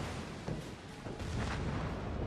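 A warship's gun salvo in World of Warships goes off as a muffled, distant booming rumble, with soft thuds rolling over a continuous low battle drone and no talk.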